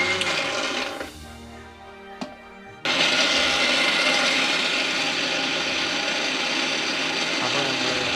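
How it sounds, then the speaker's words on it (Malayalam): A kitchen mixer grinder whirs loudly as it grinds onions in its jar for jeera chicken, starting after a brief quiet stretch and then running steadily and close. "അപ്പോൾ മിക്സിയുടെ ജാറിലേക്ക് തന്നെ ഇട്ടിട്ട് നമുക്ക് മിക്സിയിൽ തന്നെ അടിച്ചെടുക്കാം."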